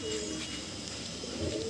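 Domestic pigeons of the Madrasi high-flying breed coo softly nearby, a low murmuring coo repeating over a faint background hum.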